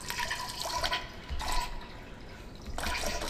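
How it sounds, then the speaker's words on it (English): Water sloshes and splashes in bursts inside a toilet in Totally Accurate Toilet Simulator, with three or four short watery surges, fairly faint, and no talk. "It sounds like you're playing in water. Splashing around."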